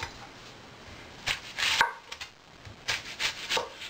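A knife slices through a peeled onion half on a cutting board, making a series of soft, close chopping strokes spaced irregularly over a quiet kitchen background.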